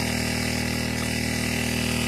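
A small gasoline motor pump runs steadily while feeding a drip irrigation line, a close, loud droning engine hum with a constant buzzing tone and no variation in pace, alone without talk.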